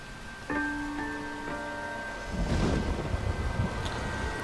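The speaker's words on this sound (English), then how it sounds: "Oh, it's a rainy day." Rain and rolling thunder in the video game LA Noire, a steady wash of rain under game music tones, then a low, loud thunder rumble swelling midway and fading into continuing rainfall.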